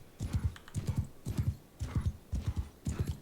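Horses charge uphill in a strategy video game, hooves clopping in tight repeated bursts of four or five beats, loud and close, continuing evenly throughout.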